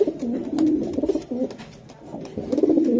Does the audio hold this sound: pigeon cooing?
yes